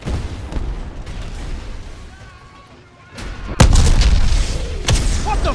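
A heavy explosion in Medal of Honor: Warfighter, a sharp, loud boom bursting out after a rumbling lull, followed by sustained roaring debris noise and another hard impact under the game's combat ambience.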